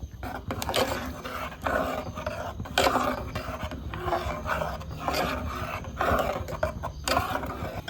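A spoon scrapes and stirs cherupayar parippu payasam in a pot with repeated rasping strokes. The scraping is close and continuous over a low background rumble.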